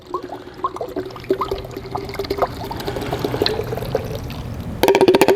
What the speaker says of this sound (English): Again, exact same fluid. Not adding any water, not adding any solution, just straight into the bottle.